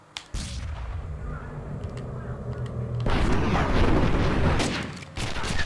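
Gunshots in a duel in Red Dead Revolver, a sharp crack followed by a swelling roar of booming, rumbling fire that builds and then drops off.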